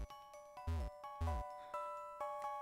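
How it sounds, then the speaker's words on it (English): A catchy little jingle from Pokémon Platinum plays alone, a short run of bright chiming tones with a few stronger plucked notes spaced at a lively, uneven rhythm. "I will say, it is a catchy little jingle."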